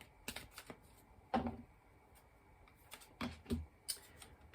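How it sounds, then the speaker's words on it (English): Tarot cards being shuffled by hand in several short, soft riffling bursts separated by brief pauses, faint and close, with no talking. "Bear with me as I do some shuffling."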